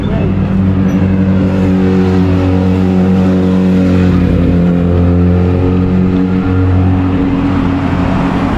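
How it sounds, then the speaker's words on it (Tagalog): A big bike motorcycle engine on a downtown street in Juneau, Alaska, holds a loud, steady, low rumbling rev close by for several seconds without pause. "Sarap ng tunog ng big bike."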